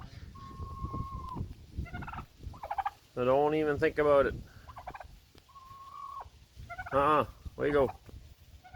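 Turkeys give several loud, close gobbling bursts, one around the middle and another near the end, while someone talks to them in between.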